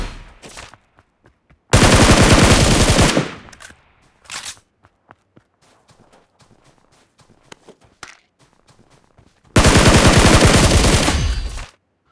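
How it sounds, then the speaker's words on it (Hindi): PUBG Mobile gameplay with two loud, sustained bursts of automatic gunfire several seconds apart, and quieter footsteps and small clicks in between. "जैसे ही बाहर निकलता हूँ सामने दो बंदे अचानक से फायर करने लगे"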